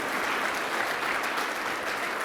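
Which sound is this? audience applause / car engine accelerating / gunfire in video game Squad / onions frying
audience applause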